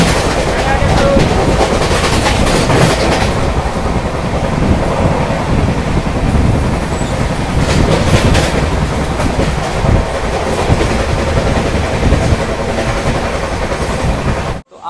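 The Mewar Express pulls away as heard from inside a sleeper class coach: a loud, steady rumble and clatter of wheels on rails that runs on without a break, then cuts off abruptly at the end.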